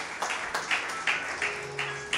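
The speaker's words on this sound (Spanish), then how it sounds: "Dale un fuerte aplauso al Señor" Congregation applause during a church wedding service, a soft, distant patter of many hands clapping in bursts, fairly faint in a reverberant hall.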